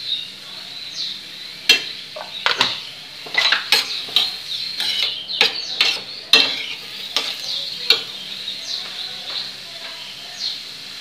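Chopped onions sizzle in a hot pan while a utensil scrapes and stirs them in quick, irregular strokes, close and fairly loud, with no talking.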